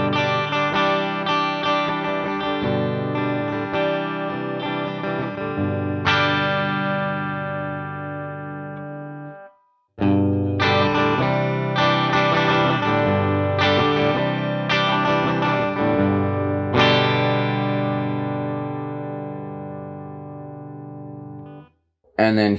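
An electric guitar plays chords through an amp on a clean setting. The chords ring out and sustain, with a short silent break midway before another strummed passage.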